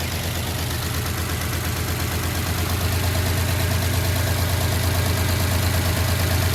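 A 1969 Chevrolet C10 engine running on 87-octane ethanol-free gas, giving off a little smoke, a steady close low rumble with a faint rhythmic knock, continuous and alone.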